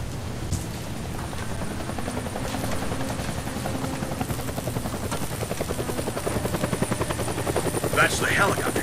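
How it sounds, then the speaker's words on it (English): A helicopter in the game Deadlight thuds steadily close by, its rapid rotor chop and engine whine continuous and loud throughout, with a voice speaking faintly underneath. "That's the helicopter chasing my friends."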